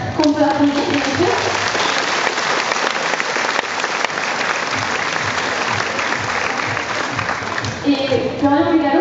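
Gym hall audience at a 2012 gymnastics gala applauding aerobic gymnasts, a sustained roar of many clapping hands for about nine seconds, steady and full, with an announcer's voice at the start and end.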